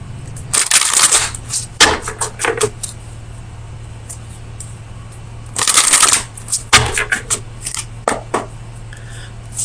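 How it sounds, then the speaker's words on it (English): Oracle cards being shuffled for a tarot reading, two crisp bursts of riffling and slapping close by, separated by quieter handling and taps, with no talking. "let me get you an oracle card from the Oracle of Visions"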